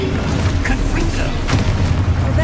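A Confringo spell blast in a Harry Potter video game booms loudly in a short burst of explosive impact amid ongoing game sounds, with a spoken voice present.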